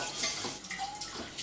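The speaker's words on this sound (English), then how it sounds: "Literally just cold water and a scrubbing brush in the wok." A wok being rinsed with cold water and scrubbed with a brush gives brief splashing and scraping, with light metallic clinks, quiet and close over a short moment.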